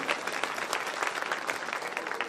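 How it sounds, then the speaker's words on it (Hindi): Steady applause from an audience at a Hindi poetry recital in Isagarh, dense clapping filling the space without pause and no voices over it. "बजाओ अपने सम्मान में जोरदार ताली"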